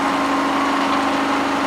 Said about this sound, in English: we're under power today. As luck would have it, there is no wind. We needed to run the engine for a couple of hours today anyway